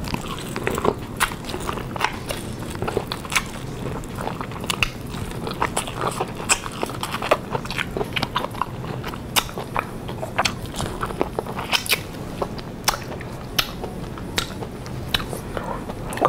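Cajun corn from Wingstop is bitten and chewed up close, with repeated crisp crunchy bites and wet chewing spread unevenly over a steady background.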